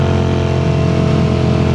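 A 1981 Honda CX400C motorcycle engine runs steadily at close range, a loud, even hum with no break or change in pitch and no voices over it.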